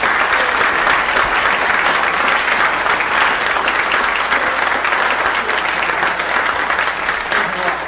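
A conference audience in Dallas gives sustained, even applause for a speaker at a JFK assassination presentation, loud and continuous throughout.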